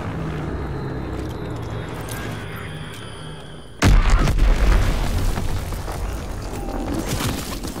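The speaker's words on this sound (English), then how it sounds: "Enemy bomb incoming." A bomb explodes with a sudden loud boom in Call of Duty WWII. Rumbling debris and battlefield noise follow it, and an earlier stretch of steady ambient drone comes before the blast.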